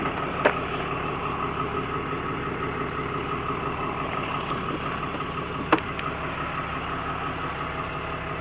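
A Ford Edge that needed a jump start from a dead battery, now idling steadily with a smooth, even hum throughout, broken by two brief sharp clicks.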